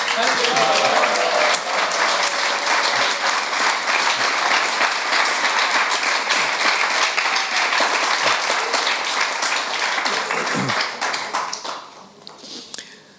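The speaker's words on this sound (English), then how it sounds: "let's appreciate His Holiness Bhakti Purushottam Maharaj's presentation with a heartfelt applause" Sustained audience applause at a religious lecture, dense steady clapping from a large crowd that continues for about ten seconds before thinning out and fading.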